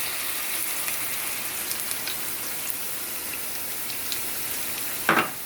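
Dark sauce poured into a pan of stir-fry noodles, sizzling and crackling steadily with a dense, even hiss throughout, and a sharper burst of spattering near the end.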